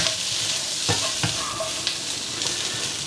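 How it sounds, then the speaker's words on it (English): Broccoli and beef are stir-fried in a pan, with a bright continuous sizzle broken by a few sharp scraping and stirring strokes. "And then in with our broccoli. A nice little stir through there."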